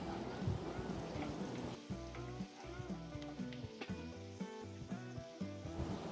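Spice paste sizzles and fries steadily in a pan for a crab curry, with stirring scrapes and light clatter over a continuous crackle, close and moderately loud, no voices.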